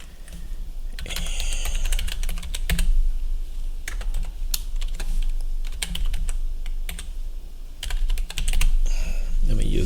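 Rapid clicking of a computer keyboard as an email address is typed, steady bursts of keystrokes close up with occasional louder taps, a voice speaking softly underneath at times.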